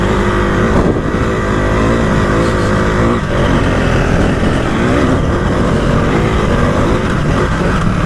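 A 2025 KTM 390 Adventure R motorcycle pulls hard uphill in second gear, its engine a loud, continuous close-up drone mixed with heavy wind rush throughout.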